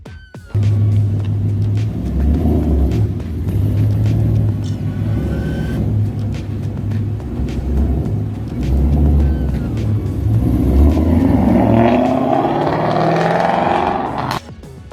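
A Mustang engine rev sound played through GoBoult Mustang Torq earbuds, a loud deep rumbling idle with a rising rev toward the end, then an abrupt stop.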